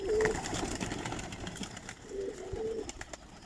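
Young pigeons cooing nearby, with a soft coo at the start and two more near the end over a faint background hum.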